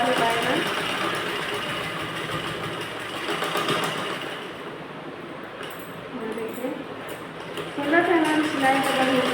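A sewing machine runs steadily, stitching a cover seam on a belt blouse, its rapid mechanical whir continuing nearly throughout while someone talks over it.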